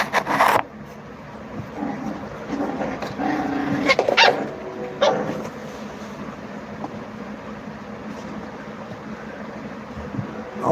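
A dog barks a few times in short bursts at the start and middle, fairly distant and moderate in level, over a background of rustling and handling noise.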